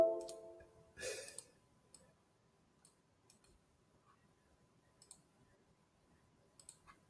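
A computer keyboard gives scattered, quiet clicks, isolated taps spaced irregularly across a near-silent background, after a louder burst of noise at the start.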